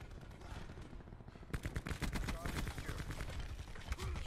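Rapid automatic gunfire in Call of Duty: Black Ops 4 from a KN-57 rifle, loud bursts of dense, fast shots that begin after a quieter opening second and continue close and sharp to the end.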